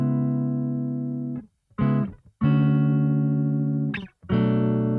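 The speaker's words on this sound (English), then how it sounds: "I played in this little guitar loop" An electric guitar through an amp plays a short looped phrase of sustained chords, broken by brief silences and a scratchy pick attack.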